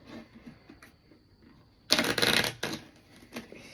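Tiny playing cards are shuffled close by in one quick, crisp riffle burst lasting under a second, followed by a shorter rustle, with quiet handling sounds before and after.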